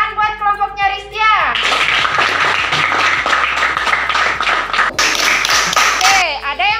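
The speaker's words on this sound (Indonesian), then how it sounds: "Oke, tepuk tangan buat kelompoknya Ristia." Primary school children in an Indonesian classroom clap together in a burst of quick, dense applause, loud and close, with children's voices chattering before and after.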